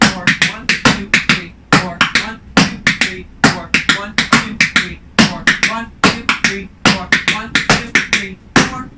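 Tap dance shoes on a hard floor performing a shim sham with stop time breaks: loud, close, rapid clusters of sharp taps in a steady repeating rhythm, separated by brief pauses.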